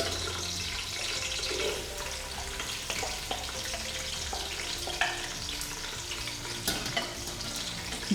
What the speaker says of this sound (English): we put in the onion.